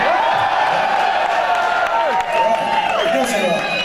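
A concert crowd at a 1996 Sydney rock show on the Unholy Downunder Tour cheers and whoops loudly and steadily, with scattered shouts and claps over a constant roar.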